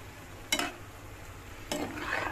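Ridge gourd frying with shrimp and salt in a pan gives a soft, low sizzle, with two brisk stirring scrapes of a utensil more than a second apart.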